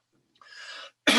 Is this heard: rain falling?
no